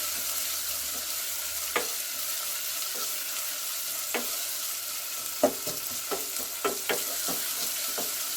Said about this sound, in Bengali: পেঁয়াজটা তেলের মধ্যে হালকা নেড়ে চেড়ে বাদামি কালার মতো, কালারটা যতক্ষণ না আসে ততক্ষণ নেড়ে যাব